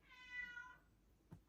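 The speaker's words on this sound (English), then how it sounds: "That's my cat." A house cat gives one drawn-out meow that falls slightly in pitch, faint and close in a quiet room, followed by a small soft click.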